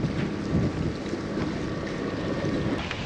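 Ocean waves break and rush around a sailboat heading out to sea, a continuous loud wash of water mixed with heavy wind noise across the microphone.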